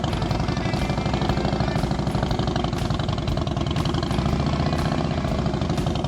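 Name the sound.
motorcycle engine revving at practice session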